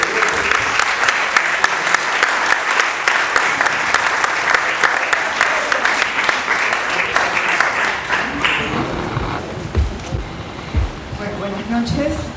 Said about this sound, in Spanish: un fuerte aplauso para él y toda la gente